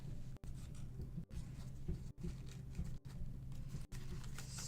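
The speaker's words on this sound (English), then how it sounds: "Slowly peel the petal back like this." Paper being folded into an origami rose, with a petal slowly peeled back, giving quiet close rustles and soft crinkles, broken by several brief dropouts to near silence, with no talk.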